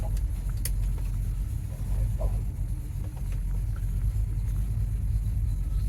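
A carbureted Ford Mustang V8 idles with a steady, deep low rumble, close and continuous, with faint clicks and rattles on top and no talk.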